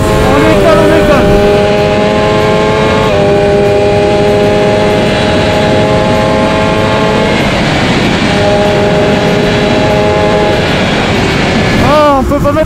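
A 2021 BMW S1000RR motorcycle accelerates hard on the Autobahn: a loud, high-pitched engine whine climbs steadily and drops at each gear change, with constant heavy wind roar throughout.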